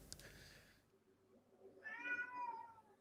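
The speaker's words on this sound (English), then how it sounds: "sits down the side of the house and meows through the window." A short noisy burst, a pause, then a cat outside the house gives a clear, drawn-out meow through a window that rises and trails off, slightly muffled and at moderate distance.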